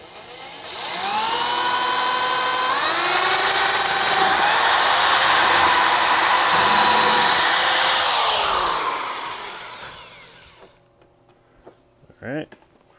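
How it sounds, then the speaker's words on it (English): A power drill bores into a part of a Sega Outrun arcade cabinet during repair, its motor whining up loud for about eight seconds before spinning down, followed by brief quiet handling noise. "now I can drill the other one without worrying"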